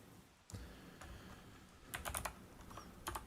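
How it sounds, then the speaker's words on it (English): Typing on a split ergonomic computer keyboard during a programming session, with scattered soft key clicks that gather into a quick cluster of taps near the end, close and fairly quiet, no voices. "for programming I use like a split ergonomic keyboard and it makes me really, really slow"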